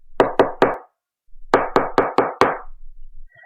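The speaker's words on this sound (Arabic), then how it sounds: "افتحي الباب عشان حاسة انه بيخبط علينا" Knocking on a door, loud and close: three quick raps, a short pause, then five more firm knocks in a steady rhythm.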